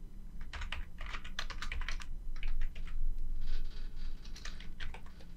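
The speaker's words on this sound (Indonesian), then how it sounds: "Kita ketikkan saja required once." Code being typed on a computer keyboard, a steady run of close, crisp key clicks in bursts with short pauses, no voices.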